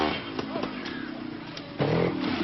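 A trial motorcycle works through deep muddy ruts, its engine revving in short bursts that rise sharply near the end, heard under a French television narrator's voice.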